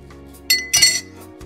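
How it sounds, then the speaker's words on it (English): A long bar spoon stirs a mixed drink in a glass, giving two quick bright clinks against the glass close by, with faint scraping between and no talk. "So I'm just spinning on the bottom of the glass as opposed to scooping it all the way up."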